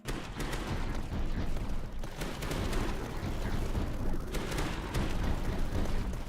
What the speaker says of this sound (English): They seem to it seems to be a slower, heavier explosion.